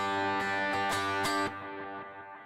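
Electric guitar chords strummed with a delay effect, each hit echoing and repeating before fading into a softer sustained tail.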